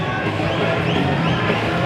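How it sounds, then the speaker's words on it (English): Crowd at a roller derby bout, heard as a steady, dense roar of cheering and chatter that fills a large hall at a constant, fairly loud level without distinct peaks. "We got a Wicked Pissahs cheering section over here to our right."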